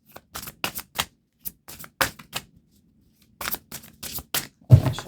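Tarot cards being shuffled up close, a series of quick, irregular papery flicks and slaps in short bursts separated by brief pauses.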